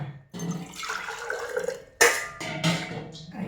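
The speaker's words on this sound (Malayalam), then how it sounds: "കുറച്ച് വെള്ളം ഒഴിക്കാം കേട്ടോ ചാറിയ വെള്ളമാണ് കേട്ടോ" Water is poured into a container of green gooseberries for pickling, with splashing bursts and clinks of the vessel, close and moderately loud, in two main pours.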